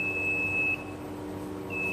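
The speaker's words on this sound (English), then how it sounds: "Now the alarm is ringing and it's ready." A sock printer's heating alarm gives a steady, thin, high-pitched electronic tone that cuts off briefly and resumes, heard over a constant machine hum.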